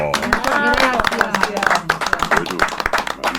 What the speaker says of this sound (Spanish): Señor Iván Locher, este aplauso es para usted.